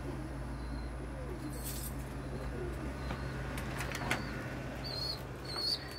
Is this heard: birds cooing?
yes